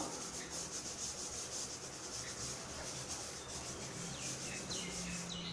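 Writing being rubbed out on a classroom board, a steady close scrubbing hiss that continues without a break, with faint bird calls in the background.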